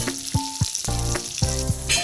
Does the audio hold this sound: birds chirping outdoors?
no